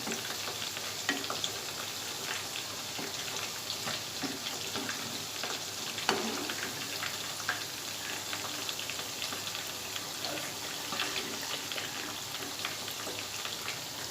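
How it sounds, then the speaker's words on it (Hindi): Onion pakoras deep-frying in hot oil make a steady, close sizzle with scattered pops and crackles that continue throughout, with no voices. "इसी तरह हम सारे भजिए तलकर निकालेंगे"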